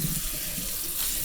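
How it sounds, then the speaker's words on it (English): Cold water from a kitchen tap rushing steadily over drained spaghetti in a sink, a close, continuous hiss and splash with no talking. "A little bit of cold water to it"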